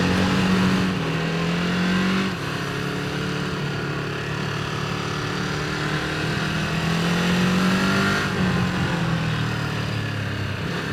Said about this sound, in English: A surprising amount of traffic for a Tuesday morning